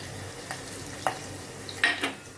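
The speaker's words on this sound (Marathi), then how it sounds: "जिरं जिरं हळद सगळं आता आपण फोडणीत घातलेलं आहे" Cumin, turmeric, crushed coconut, garlic and curry leaves are tempered in hot oil for a Maharashtrian urad dal amti, giving a quiet sizzle with faint spoon scrapes and a few brief clinks against the pan, close by.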